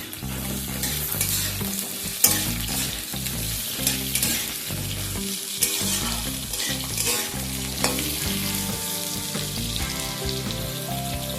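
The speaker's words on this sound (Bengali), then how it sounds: "ঝিঙেটাকেও খানিকক্ষণ সময় নিয়ে একটু ভেজে নেব" Potatoes and ridge gourd frying in oil for a Bengali fish curry, a dense continuous sizzle with repeated stirring and scraping in the pan, close and fairly loud throughout, no talking.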